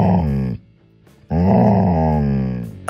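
A dog makes a drawn-out, groaning growl in two long stretches separated by a short pause, loud and close, with no other sound around it.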